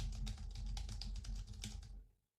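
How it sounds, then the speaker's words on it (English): Computer keyboard typed in a fast, steady run of close clicky keystrokes for about two seconds before stopping abruptly, with a low hum underneath. "just by listening to the sounds of your keyboard keystrokes"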